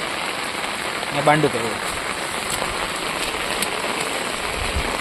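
Steady rain hisses evenly throughout, recorded outdoors in the Konkan countryside during crab catching, with someone saying a single word partway through.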